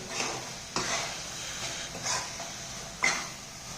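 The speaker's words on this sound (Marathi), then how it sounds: "त्यामध्ये आपण वेलची पूड टाकायची आहे. पुन्हा हलवून घ्यायचं आहे." Carrot halwa stirred in a pan after cardamom powder goes in, with a few distinct scraping strokes spaced about a second apart over a soft sizzle, close and fairly quiet.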